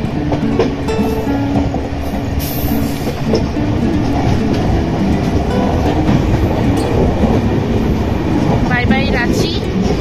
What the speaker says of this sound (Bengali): আর আমাদের এই ট্রেন যাচ্ছে।